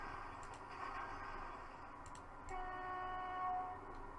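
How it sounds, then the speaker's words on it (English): A train engine climbing a hill in the Transport Fever video game, a steady low rumble with a sustained horn-like tone entering midway, faint and continuous with no speech. "This train should be able to power up this hill quite easily."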